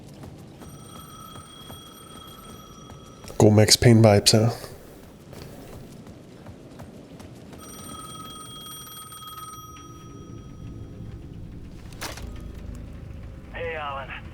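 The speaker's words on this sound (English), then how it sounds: "The payphone at the edge of the plaza was ringing again." A payphone rings in the video game Alan Wake II, a steady electronic ring repeating in bursts at moderate volume under a game soundtrack, with someone talking briefly over loud clattering in the middle.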